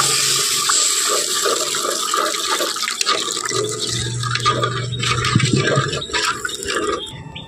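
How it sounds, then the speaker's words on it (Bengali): Water poured into a pan of frying spice paste for a Bengali gondhoraj lime egg curry, a steady rushing, splashing pour with sizzle that runs loud and continuous throughout, with no talking. "এখন এর মধ্যে দিয়ে দিচ্ছি জল।"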